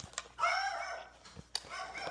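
Dogs bark indoors in a couple of sharp, fairly close bursts with whimpering yips between them, over a steady background hum.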